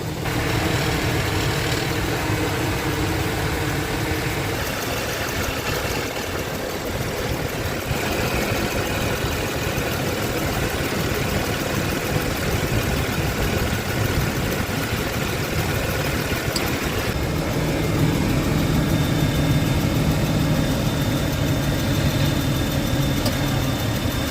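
A 2007 Ford F-150 4.2L engine idling close by, a steady low rumble that runs unchanged throughout, with a light rapid ticking from a likely exhaust leak riding on top.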